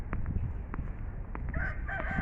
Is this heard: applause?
no